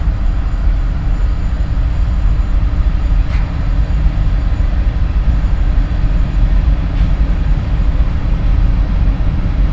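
A Norfolk Southern locomotive rumbles steadily at the DeButts rail yard on a cold night, a deep, continuous idle heard up close.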